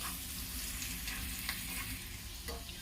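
Finely chopped ginger sizzles steadily in a hot pan for a Hindi-style moong dal chilla, a continuous frying crackle with occasional stirring scrapes and no talk.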